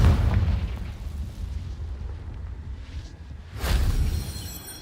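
A Confringo spell blast from the game Hogwarts Legacy, a deep booming explosion with rumbling low end that fades, followed by a second swelling burst of noise near the end.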